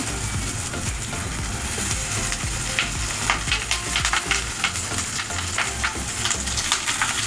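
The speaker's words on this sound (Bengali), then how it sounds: "সামান্য একটু তেল দেবো একইভাবে আমি সবই পাপড়িগুলো ভেজে নেব" Bhetki fish paturi fries in a little oil, a loud, dense sizzle with crackling pops and stirring clatter, close by and with no talking.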